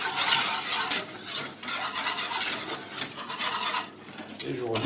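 A spoon scrapes and stirs milk into a pasta, ham and mushroom gratin mixture in a pan, producing a continuous close rasping, sloshing sound with rhythmic strokes.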